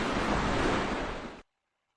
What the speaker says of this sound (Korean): 큰 여울을 이루어 빠른 속도로 흘러가는 물소리를 들으며 걷다 보니